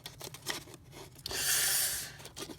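Scissors cutting paper for origami folding. Several quick, close snips are followed by a longer rasping cut, with no talking.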